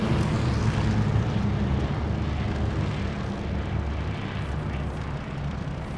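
In the video game Call of Duty Vanguard, an airplane engine drones as a loud, continuous rumbling roar that fills the scene steadily for several seconds, with no talking.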